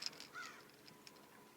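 A crow caws faintly in the open air beside a lake cove where someone is catfishing, a few short distant calls over quiet outdoor background noise.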